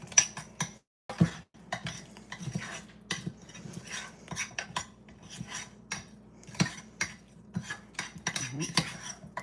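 A spoon mixes chocolate pieces into baking batter in a bowl, giving repeated close clinks and scrapes against the dish in an uneven stirring rhythm.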